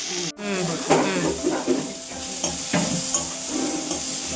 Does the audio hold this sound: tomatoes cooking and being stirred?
yes